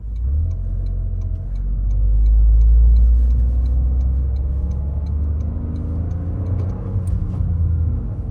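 A stock 2024 Toyota GR Corolla engine runs with a deep, steady rumble close by, swelling briefly as it revs and then settling back into a continuous idle-like drone with faint ticking.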